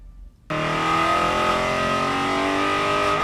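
An Aston Martin race car's 4.7-liter V8 roars to life after a brief quiet moment, then holds a loud, steady, harsh drone with rising harmonic tones.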